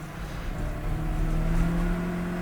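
Race cars in a BMW 116 Trophy race, one overtaking a black car, roar past as a steady, loud engine drone with a low tonal hum running throughout, no voices.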